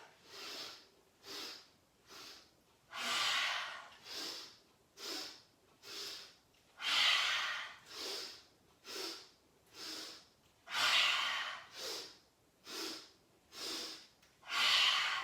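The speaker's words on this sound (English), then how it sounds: "And we inhale, inhale, inhale, and then exhale." Deep breaths during a yoga breathing exercise, a slow rhythmic series of audible inhales and exhales through the nose and mouth, close and clear, each lasting about a second with brief pauses between.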